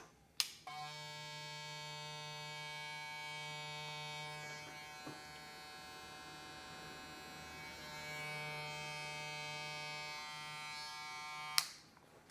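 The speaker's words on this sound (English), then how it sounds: "we need to do the sound check, guys. So let's see how loud this thing is" A StyleCraft Mythic cordless hair clipper switches on with a click and runs for about eleven seconds as a steady, fairly quiet high-pitched electric buzz, then clicks off, heard close up with no talking.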